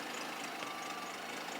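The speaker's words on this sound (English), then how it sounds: "That's what the cold start sounds like." A Volkswagen Jetta idles just after a cold start, a steady, even engine hum with a faint exhaust rumble, heard alone without talk.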